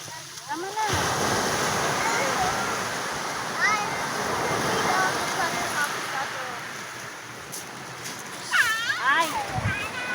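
Strong sea waves roll and wash in continuously at a beach, a loud, steady surf roar with splashing, while voices call out over it now and then.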